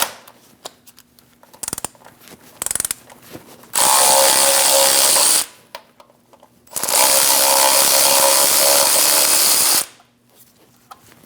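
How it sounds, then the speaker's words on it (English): Bolts on a neutral safety switch of a 2001-2006 Chevrolet Silverado 2500 HD backed out with a 13mm socket on a power ratchet, two long loud close whirring runs with clicks and handling noises between. "Using a 13mm socket, we're going to remove the two bolts for our neutral safety switch."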